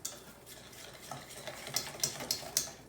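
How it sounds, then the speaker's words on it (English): A whisk beats batter in a bowl for vegan KFC-style fried chicken made with mushrooms, a quiet close run of rapid clicking strokes that grows sharper and more rhythmic toward the end. "and whisk until smooth"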